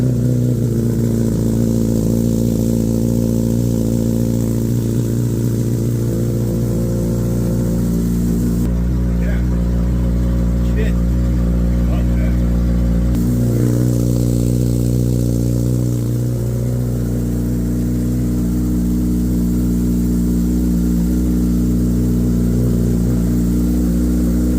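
A Kawasaki 1000R motorcycle fitted with a Yoshimura slip-on exhaust runs loud and close, its deep engine note holding steady with a few revs rising and falling over roughly twenty-five seconds.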